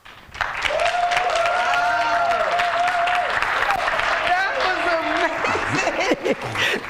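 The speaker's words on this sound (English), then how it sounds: "Y'all give him another round of applause." An audience at an outdoor community beach event applauds in a dense, sustained wave of clapping, with a loud voice calling out and cheering over it near the start.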